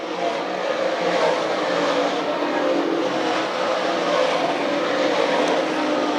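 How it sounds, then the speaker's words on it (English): A pack of 358 modified race cars roars down the front straightaway at a speedway, a continuous loud blended engine drone heard from trackside with no talk over it. "they motor down the front straightaway"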